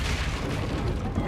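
Depulso spell effect in the video game Hogwarts Legacy, a loud, dense whooshing boom that fills the whole short moment with rumbling force.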